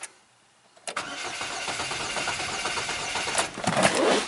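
2009 Chevy Cobalt engine cranking over at wide open throttle after a brief quiet moment, then catching and running steadily with a loud, rough engine sound that surges near the end.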